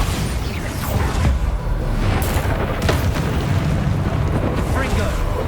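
A Bombarda spell explosion in Hogwarts Legacy, a heavy booming blast with a broad rumbling roar that fills the whole stretch, loud and continuous, amid the noise of combat.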